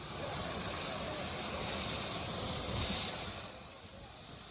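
A Basarnas rescue helicopter, used to evacuate a casualty on a stretcher in Nusa Tenggara Timur, gives a steady, loud broadband engine and rotor roar that holds throughout, easing slightly near the end.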